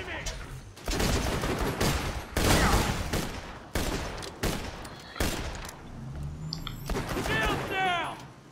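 Sniper gunfire in Borderlands 2 erupts as loud, dense volleys in several long bursts separated by brief gaps, ending as a voice speaks over the last stretch.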